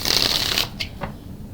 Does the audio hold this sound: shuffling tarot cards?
yes